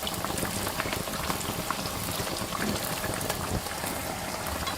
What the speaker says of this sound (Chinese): 全程保持中大火炸，防止把油条炸硬